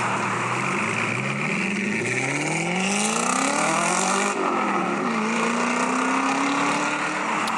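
A V8 car engine revs and pulls away near a junction exit in America, its pitch sweeping upward, over a steady wash of loud continuous road traffic.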